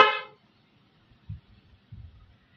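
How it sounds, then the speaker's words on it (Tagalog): A single loud, short motorcycle horn blast sounds at the start, followed by faint low rumbling and handling noises. "At pagpindot naman natin sa switch mga paps, magla-loud horn siya."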